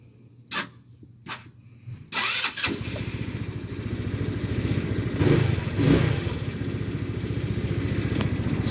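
After a few clicks, a 2021 Vitacci Clash 200EFI motorcycle engine fires up and settles into a steady, throbbing idle with a couple of brief revs, close by.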